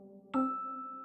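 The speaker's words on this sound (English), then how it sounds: "Pull the bell." A doorbell chime strikes once, loud and close, then its tone rings on and slowly fades over a faint steady hum.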